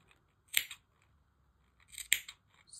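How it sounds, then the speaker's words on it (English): Scissors snip fabric around a curved sewing-pattern edge, two sharp close clicks of the blades about a second and a half apart, crisp and isolated in an otherwise quiet room. "now you're gonna go and snip all the way around."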